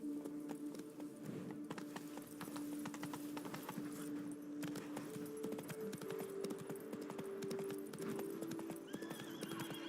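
A horse's hooves clip-clop steadily under the rider in The Witcher 3 video game, with a whinny, a constant rhythmic gallop alongside game ambience and a low tonal hum.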